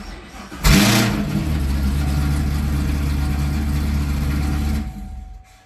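A Chevrolet Camaro ZL1 V8 cranks and fires with a sharp loud burst, then settles into a steady rumbling idle for several seconds before being shut off.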